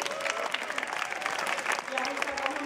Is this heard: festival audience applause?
yes